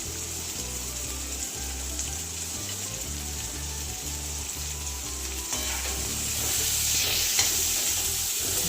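Chopped corn for Gujarati makai chevda sizzling in a hot pan while being stirred, a continuous frying crackle with scraping strokes that grows slightly louder toward the end.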